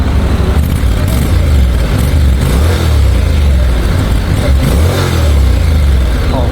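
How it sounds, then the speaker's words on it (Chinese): A Honda NC750X motorcycle in Sport Mode revs its exhaust, a loud, continuous low engine drone that climbs and swells in repeated throttle blips, close by with no talking. "来，我们听一下它的排气声浪。"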